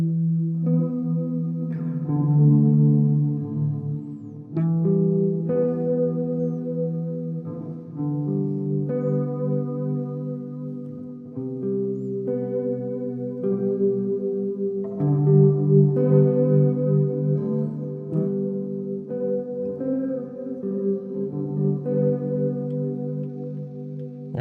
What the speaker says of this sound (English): add a tube screamer on there, and now you got like a warped ambient lo-fi sound